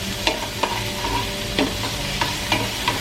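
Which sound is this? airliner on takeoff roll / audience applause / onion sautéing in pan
onion sautéing in pan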